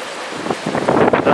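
Strong storm wind with gusts of roughly 50 to 60 miles an hour, roaring and buffeting loudly right at the microphone in surging bursts.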